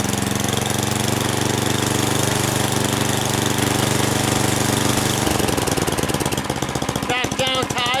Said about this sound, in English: Now we're going to bring her up into the operating range, the RPMs in the operating range.